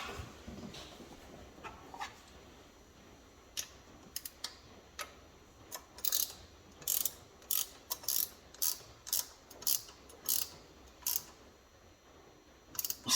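A ratchet wrench clicks in short, quick bursts while tightening bolts on a new Holley carburetor in a 4-speed truck, the sharp close ratcheting repeating steadily over several seconds.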